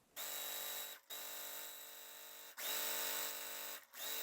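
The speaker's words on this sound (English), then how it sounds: "I sew this in strip." An electric sewing machine stitches down a fabric strip for a quilt block, its motor whirring steadily in three sustained runs separated by brief pauses, close and fairly loud with no talking.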